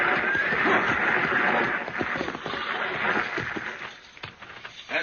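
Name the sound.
stagecoach pulled by six-horse hitch approaching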